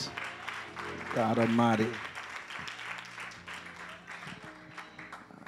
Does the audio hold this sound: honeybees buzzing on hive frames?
no